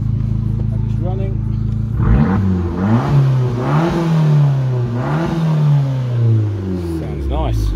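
An Abarth car engine runs steadily, its pitch rising and falling in a few revs, with talking over it.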